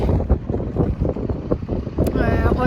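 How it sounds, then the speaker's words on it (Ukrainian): A strong, cold winter wind in Ireland gusts and buffets the microphone in uneven bursts, and a person speaks over it. "дуже сильний вітер. Він реально такий холодний."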